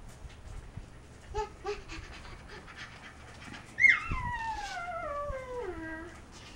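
A pet dog at home panting softly nearby, then letting out a sharp yelp that slides down into a long, drawn-out whine.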